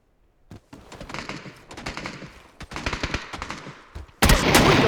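Gunfire in a shooter video game: rapid bursts of automatic shots in several clusters, close and sharp, ending in a louder, denser burst of fire.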